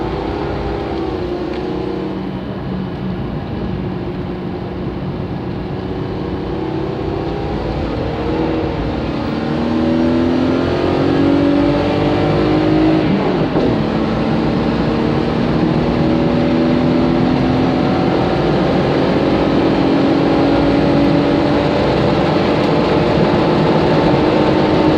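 A Toyota Celica driven hard on a track, its engine a steady loud drone that rises in pitch and swells as it accelerates, with no one speaking over it.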